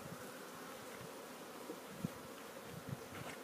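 Honey bees buzz around a hive in a continuous, moderately faint drone, with individual bees briefly passing closer; no voices.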